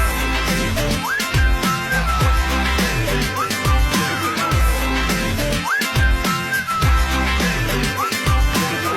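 A man whistling a short repeated melodic phrase over a loud, thumping dance beat with heavy bass, the whistled line recurring several times in rhythm.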